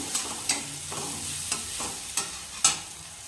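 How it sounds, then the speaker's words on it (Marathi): Rice for dal khichdi stirred and sautéed in a pan, with a spoon scraping and clacking in several sharp, irregular strokes over a soft sizzle, close and alone. "आणि ते आता छान मिक्स करून घेऊया परतून"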